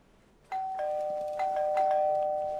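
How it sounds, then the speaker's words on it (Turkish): A doorbell in Mafia 2 sounds a sustained electronic ding tone that holds and overlaps over a couple of seconds, loud and clear against a quiet room with no talking. "Kapı çalıyor, zil çalıyor."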